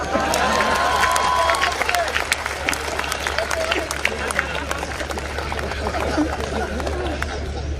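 An audience at a Hindi satirical poetry performance claps in a continuous, crowded wash, with chatter and a voice speaking over the applause throughout.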